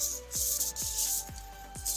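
Sanding paint off the oil pan of a 1966 Mustang GT: steady broadband abrasive rasping with repeated strokes roughly every half second, close and loud, with no talk.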